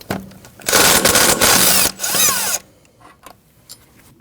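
A power tool whirs loudly in two short bursts while removing the 12mm bolt holding the ABS sensor on a 2003-2008 Subaru front wheel hub, followed by quieter metallic handling noises.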